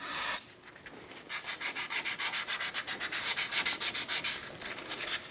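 Close, rhythmic sanding inside a metal ball joint bore on a 1997-2006 Jeep Wrangler front axle: about twenty quick, even strokes in a steady back-and-forth scrape, with no talking.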